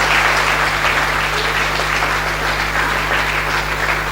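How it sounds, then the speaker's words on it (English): Audience applause at a medical laboratory induction and oath-taking ceremony at a university: continuous dense clapping from a crowd, loud and steady, over a constant low electrical hum. "Please, a round of applause for her, please."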